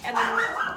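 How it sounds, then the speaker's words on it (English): A pet dog gives a brief whimpering bark-like yelp indoors, close and fairly loud, overlapping with someone speaking. "Sorry, that's my dog."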